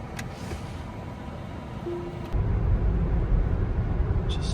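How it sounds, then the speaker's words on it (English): A Rivian electric car drives along a road through light snow flurries, giving a steady broadband road and tyre rumble that grows louder and heavier about halfway through, with no talking. "Just driving through some flurries."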